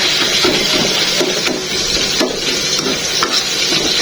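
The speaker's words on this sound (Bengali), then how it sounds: "এক হাতে নাড়া দিতে হয়, এই জন্য কড়াইটা লড়বড় করে" Continuous loud sizzle of tomatoes cooking down with a spatula scraping and knocking as they are stirred one-handed in a wok that rattles on the burner.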